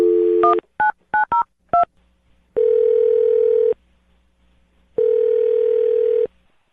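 Touch-tone keypad dialing a phone number: a quick run of five short beeps, then two long steady tones with a pause between, loud and clean with no voices.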